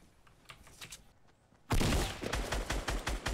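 Fortnite gunfire: scattered faint shots at first, then after a short gap a loud, dense burst of rapid automatic fire that keeps rattling to the end.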